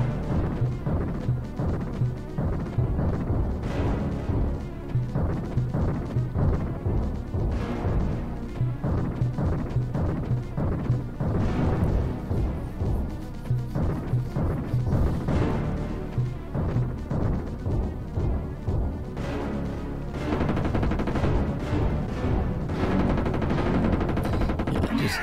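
Rapid gunfire in the SNES game Jurassic Park 2: The Chaos Continues as the player shoots a Triceratops, dense repeated shots under a loud game soundtrack running steadily throughout.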